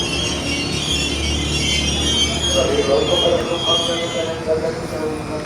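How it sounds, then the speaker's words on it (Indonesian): A commuter train at the Nambo station platform in Indonesia, loud and close, with a steady rumbling roar, rising metallic squeal of wheels and a voice speaking over it. "Mari kita nikmati sejenak suasana peron Stasiun Nambo."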